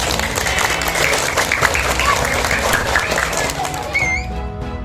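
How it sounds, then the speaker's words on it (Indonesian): Children clap loudly and rapidly at a talent show after a dance, a busy crowd of hands mixed with excited voices, ending abruptly before a short trailing tone. "Tepuk tangan anak-anak."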